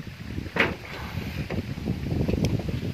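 Kubota 40 hp tractor engine driving a rotary tiller through very dry soil, a steady low mechanical drone with gusting wind noise over it and a few brief knocks.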